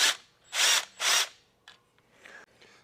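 A power tool, likely a cordless impact driver, backs a T45 Torx bolt out of a turbo oil or coolant feed line on a 3.5L EcoBoost Ford F-150. Three short, loud bursts ring out close by, followed by fainter clicks and rattles.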